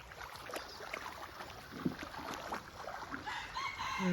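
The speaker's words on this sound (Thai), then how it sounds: "ไก่ขันแล้วนะ" A rooster crows once at a distance over steady outdoor ambience and faint water sounds from a creek.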